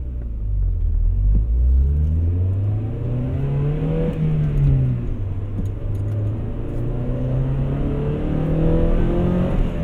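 A 2000 Honda Prelude accelerating under load, its engine and stock exhaust rising in a steady rumbling drone that climbs, dips slightly and climbs again over about ten seconds, heard from inside the car with no talk.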